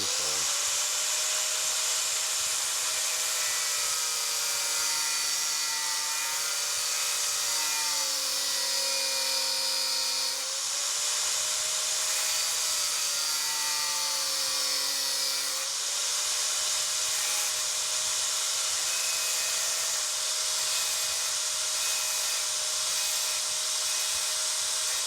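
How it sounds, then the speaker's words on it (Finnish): An angle grinder cuts a piece off a Volvo 240 estate car in a loud, steady whine. The pitch slides down and then recovers as the disc bites and eases through the metal, and it runs on without a break. "vaan laikkakoneella tästä."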